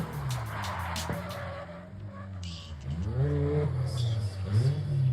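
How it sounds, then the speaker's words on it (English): A car running on a race track at a drift event revs and accelerates nearby, engine tone climbing and falling through gear changes with tire squeal, and a voice shouts over it. "So as you guys can see, car's running on the track"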